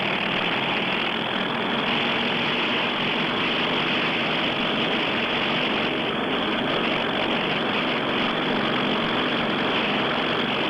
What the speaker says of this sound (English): And there it goes. There it goes, off the forward deck of the Yorktown,